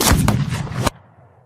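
A stage gunshot fired in the duel scene of the Hamilton musical: one loud, sharp blast with broad noise and an echo, cut off abruptly and followed by a faint low tail.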